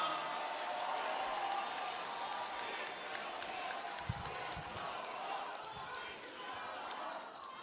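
Crowd applause at a Korean political party convention in Daegu welcoming a candidate to the podium, a steady wash of clapping from a large hall that holds evenly throughout.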